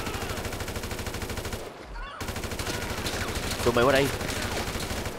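Rapid gunfire in the GTA 5 video game, dense sustained bursts that briefly drop out, then return with a voice talking over them.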